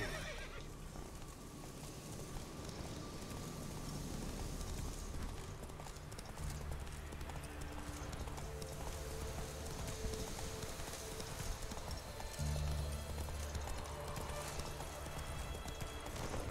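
Roach, the horse from The Witcher 3, trots with steady clip-clop hoofbeats and gives a whinnying neigh, sounds continuous and fairly close over game ambience throughout.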